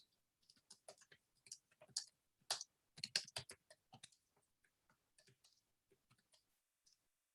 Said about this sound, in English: So I'm going to go ahead and type this in.